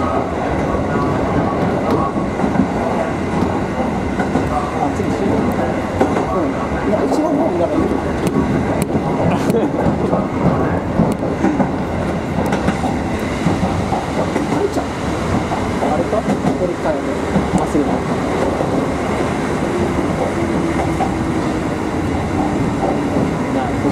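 An electric train on the Takamatsu-Kotohira Electric Railway Kotohira Line rumbles past steadily for the whole stretch, a continuous heavy rolling roar with faint rail clatter, while people talk over it.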